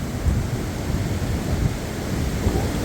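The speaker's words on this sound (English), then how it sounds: "Here comes some wind now." Strong wind gusts of 70-90 mph roar through trees in the U.K., a steady loud low rumble of blustering air with rustling throughout and no distinct cracks standing out.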